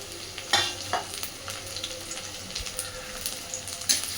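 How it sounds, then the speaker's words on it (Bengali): Onion and garlic stirred in a frying pan for a cauliflower and potato curry, giving a steady soft sizzle with scattered scraping and clinking from the spoon, close by and alone. "পেঁয়াজ আর রসুনটাকে একটু হালকা নাড়াচাড়া করে, খুব বেশি লাল করে ভাজবো না"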